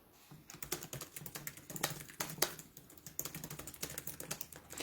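A short message is typed on a computer keyboard, a rapid continuous patter of close keystrokes with occasional sharper clacks, over a faint room hum.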